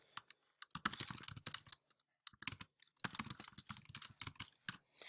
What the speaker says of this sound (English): and then type in your question.